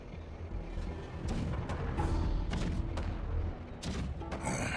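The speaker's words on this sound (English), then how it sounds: "The rumble of the cannons." Deep booming rumbles roll in repeated waves, with sharper thuds and crackles rising over a steady low roar, like distant cannon fire in Honkai: Star Rail.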